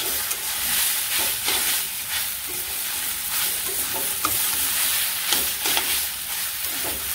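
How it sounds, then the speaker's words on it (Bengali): Garlic being stirred into pumpkin-leaf chorchori with puti fish as it fries in a pan: steady close sizzle and hiss with scraping stir strokes throughout, no talk. "রসুনটা ভালো করে মিশিয়ে নিই"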